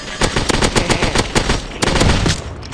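Rapid automatic gunfire from a military battle video game rattles in fast, loud bursts throughout, with evenly spaced shots and no talking.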